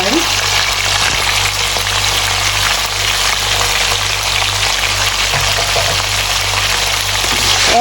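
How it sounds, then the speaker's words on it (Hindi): Shinwari-style Peshawari chicken karahi fries hard in oil over a high flame, giving a loud, steady, dense crackling sizzle that runs unbroken from start to finish. "अब इसे करेंगे हम 5 मिनट के लिए फ्राई।"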